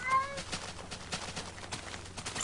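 A cat meows from the Minecraft Mo'Creatures mod, a couple of soft game calls faintly over a steady background hum with no talk.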